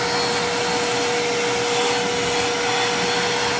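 A vacuum cleaner runs steadily at close range, a constant whining hiss with a fixed hum tone and no change in loudness, with no talking over it.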